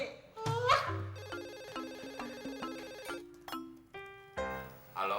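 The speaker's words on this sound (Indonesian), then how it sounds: "No, telepon lo yang bunyi." A phone ringtone plays a bright, chiming electronic melody of short repeated notes for several seconds, then a brief pause, and the tune starts again. It sounds close and clear, with no talking over it.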